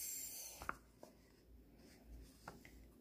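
Soft, faint scratches of a toddler writing the number 5 in a workbook, a few brief pen strokes spread over a quiet indoor background.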